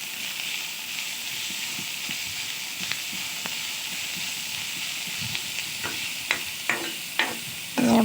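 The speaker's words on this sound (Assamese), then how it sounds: "এতিয়া কলপচলাখিনি মই ভাজি লৈ পেলাই" Sliced banana stem frying in a pan, a steady hiss of sizzling oil with soft scraping as it is stirred, a few sharper scrapes and knocks of the spoon near the end.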